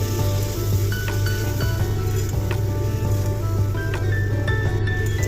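A fish head sautés with spices in a pan for a Bengali bottle gourd curry, giving a steady close sizzle with clinking and scraping of a spatula against the metal over a constant low hum.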